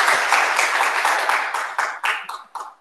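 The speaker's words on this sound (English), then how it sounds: "Well, applause for that." A church congregation applauds during a Sunday Advent worship service, a steady round of clapping that thins out into a few scattered claps before stopping.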